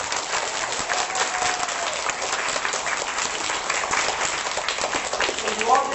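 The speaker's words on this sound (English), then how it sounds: "So I'd like you all to give a round of applause." Children at an elementary school applaud a visiting author: dense, steady clapping from a large group fills the room throughout, with voices and cheers mixed in and a brief louder swell near the end.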